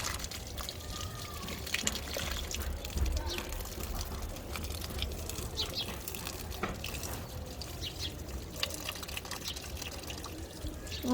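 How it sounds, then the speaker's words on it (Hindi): Water splashes and pours steadily onto potted plants on a rooftop in the evening, a continuous low gurgling wash with faint voices in the background. "यहाँ पे मैं दे रही हूँ पौधों में पानी"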